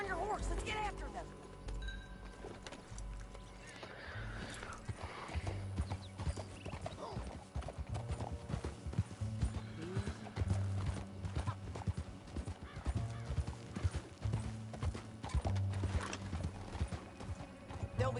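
Horse hooves clip-clop steadily in Red Dead Redemption II under a busy mix of game sound effects and music, with occasional whinnies, no clear talk.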